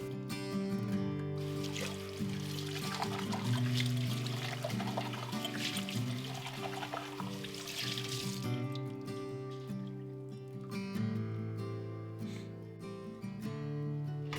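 Water runs and trickles steadily with soft clinks and splashes of glass canning jars being rinsed, under a background of sustained tonal music.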